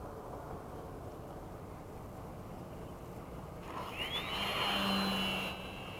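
A Gee Bee Model Y sport plane flies in formation at Bayside, its engine whine rising and sweeping past midway before fading, over a steady rumble of wind and ambient noise.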